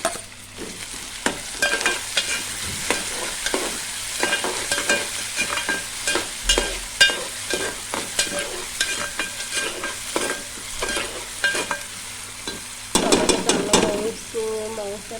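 Onion and tomato sautéing in a pan, with a continuous sizzle under frequent scraping and clinking strokes of a spoon stirring, close and steady, plus a brief voice near the end.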